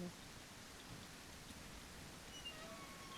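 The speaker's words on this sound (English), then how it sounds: "And look, here comes the rain." Steady, even rain falls in the Railroads Online video game, a faint broadband hiss with no pauses, with a few soft pings above it and no voices.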